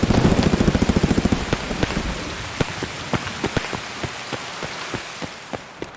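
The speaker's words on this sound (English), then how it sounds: "I hope that rain fucks off." In-game rain falling on surfaces, with a steady hiss and a string of sharp drop-like taps, quicker and denser at first and then more spaced out, with no talk.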